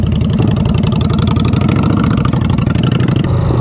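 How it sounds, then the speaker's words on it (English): A 2007 Honda Shadow 600 motorcycle with short aftermarket exhaust pipes rumbles loudly and steadily up close, a deep throbbing idle with a continuous pulsing beat throughout. "Dang, that shadow sounds good."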